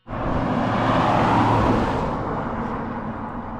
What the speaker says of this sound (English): This is 65 mile per hour traffic,